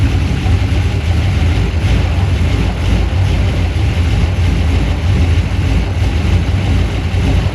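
An older Holden VU car engine idles steadily in a garage, a loud, low rumbling drone that stays constant throughout, with faint voices beneath.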